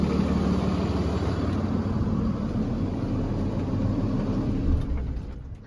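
A 2021 International MV extended-cab rollback wrecker with a Cummins diesel idles in a steady, loud, close rumble, then the engine note drops away near the end as it shuts off.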